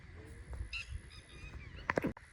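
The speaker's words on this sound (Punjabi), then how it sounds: "ਸਿਰਫ ਪੰਛੀਆਂ ਦੀ ਆਵਾਜ਼ਾਂ ਆਉਂਦੀਆਂ ਨੇ" Birds, goose-like honkers, call at a quiet rural gurdwara far from the city, faint scattered calls followed by a short burst of louder honks near the end over a soft background.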